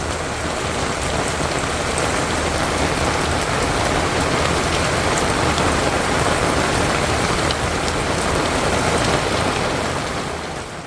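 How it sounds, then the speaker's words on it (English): Heavy rain pours steadily on a campsite in Zion National Park, a dense, even roar of drops drumming on surfaces that holds at the same loud level throughout with no voices. "It was pouring hard. We fell asleep listening to the rain."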